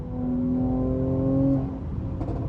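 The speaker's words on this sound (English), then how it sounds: "That's exactly how a car should sound when you lay off the gas." A 2019 Mercedes C43 AMG engine drones loudly with steady harmonic tones, then drops off as the throttle is released, followed by a few faint crackles.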